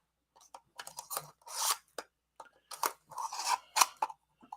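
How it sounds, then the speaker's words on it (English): A pair of scissors picked up and handled, with a series of close metallic clicks, snips and rattles in irregular bursts, some louder, without talk. "I'm going to grab a pair of scissors here."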